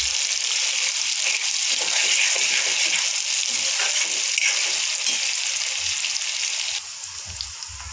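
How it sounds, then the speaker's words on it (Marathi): Onion pieces frying in a pan for palak paneer, a steady dense sizzle throughout, close and even, easing slightly near the end with no talking. "कांदा जो आहे आपला आणखी जो आहे तो गोल्डन ब्राऊन कलर येईपर्यंत आपण याला फ्राय करून घेणार आहे"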